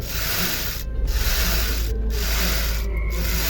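A belt cleaner brush rubs slowly and gently along the drive belt of an Ather 450X electric scooter, a steady close scratchy scrubbing with three short breaks as the brush strokes are repeated.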